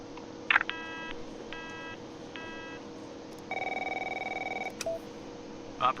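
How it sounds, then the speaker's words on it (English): A telephone rings in The Operator video game, giving three short trilling bursts followed by a longer electronic tone and a click, clear and close against a quiet hum, with no voices. "My phone's ringing off the hook here."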